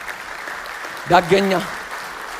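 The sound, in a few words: applause in church congregation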